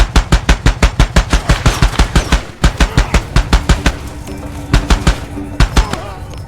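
Automatic rifle fire rattles in rapid, loud bursts with short pauses during a firefight in Far Cry 2, close and sharp, with brief gaps between volleys.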